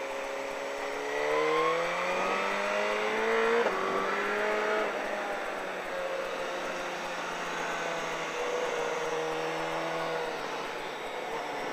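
A motorcycle on a race track accelerating out of a corner, its engine note climbing steadily through the revs with a brief dip at a gear change, then holding a sustained high whine, close and loud.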